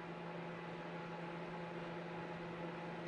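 A microwave oven running as it heats, a steady low hum with an even whir, unchanging and moderately quiet throughout, with no talking.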